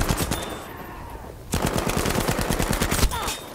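Automatic gunfire in Battlefield V team deathmatch: a quiet gap, then a long, steady rapid burst of close shots, with more shots in the background at the start and end.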